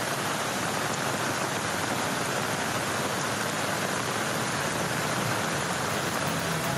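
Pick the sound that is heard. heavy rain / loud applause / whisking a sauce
heavy rain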